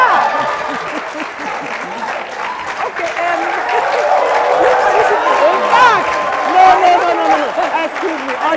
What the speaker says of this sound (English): Why are you clapping? Even the women, you are clapping.